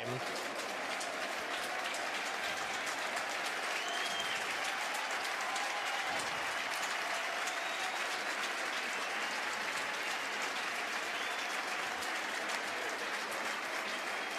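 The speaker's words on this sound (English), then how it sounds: "Appreciation shown by the crowd here at Citi Field" Baseball crowd at Citi Field applauding during a 2012 Braves–Mets game, a broad, sustained roar of clapping from a large stadium audience, even and unbroken throughout.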